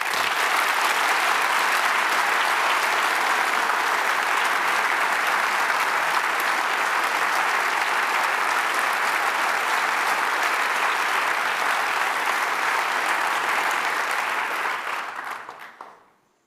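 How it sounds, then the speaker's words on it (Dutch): Warm, prolonged applause from a large audience at the KU Leuven academic year opening ceremony, a thick continuous roar of clapping that holds steady for about fifteen seconds, then quickly fades out. "Mag ik een heel warm applaus?"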